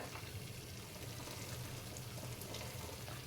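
Water poured into a pot while making egg dum biryani, a faint, steady rushing splash that runs without break from start to end.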